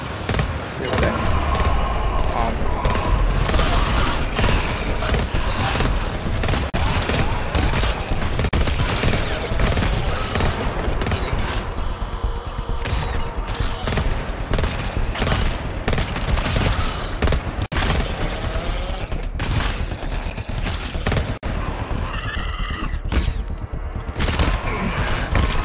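Sustained gunfire in the co-op shooter GTFO, dense bursts and rapid automatic fire running loud almost without pause, with players talking over it now and then.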